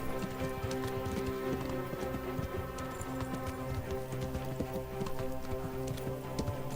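Horse hooves clip-clop at a steady walking rhythm in the Kingdom Come Deliverance video game, a continuous close clatter with game ambience underneath.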